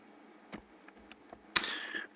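Keys on a computer keyboard tap in a few sparse, separate clicks at close range, ending in a louder clack with a short bright tail.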